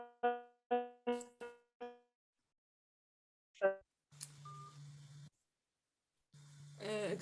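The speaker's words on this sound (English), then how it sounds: "an incoming phone call disturbed my call" Incoming phone call tones cut into a video call, first as a rapid run of five stacked electronic tone bursts, then a brief chirp, followed by stretches of buzzy, distorted line noise.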